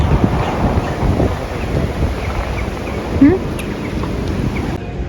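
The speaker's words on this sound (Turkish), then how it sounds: "Ayrıca çok rüzgarlı." Strong wind blowing at a seaside caravan spot in Çeşme, Turkey, buffeting the microphone in a steady, close, rushing roar that lasts the whole time.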